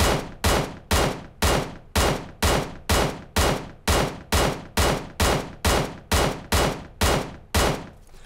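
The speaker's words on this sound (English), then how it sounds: "take a look at the QBU at some various distances now with no muzzle attached to see what the controllability of the recoil is like" A QBU88 marksman rifle in PUBG Mobile fires with no muzzle attachment, a steady string of about fifteen loud, sharp shots at a regular rhythm of roughly two per second, with no talking.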